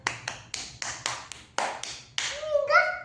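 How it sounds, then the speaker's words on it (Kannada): Small hands, apparently a child's, clap about ten times in a quick, even series close by, each clap a sharp slap, followed by a brief voice at the end. "ಓ ಚಪ್ಪಾಳೆ."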